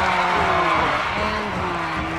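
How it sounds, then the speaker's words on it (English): Excited crowd at a girls' high school basketball game erupts in loud, continuous cheering and whooping in a gym, with a commentator's voice running over the roar. "And the crowd goes crazy."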